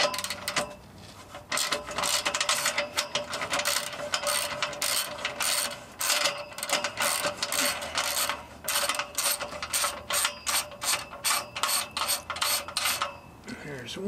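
A socket wrench with a 13 mm socket ratchets bolts loose on a C6 Corvette during fuel sending unit work, giving dense runs of close metallic clicks with brief pauses and clinks of parts.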